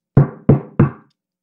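Three firm, evenly spaced knocks on a door in the middle of the night, close and loud against silence.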